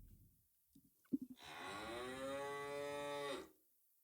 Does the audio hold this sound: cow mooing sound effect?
yes